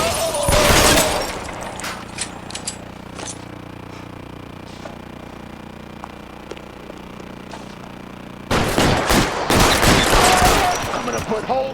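Loud bursts of gunfire from an L.A. Noire shootout open the scene, give way to a quieter stretch, then return as a heavy volley of shots near the end.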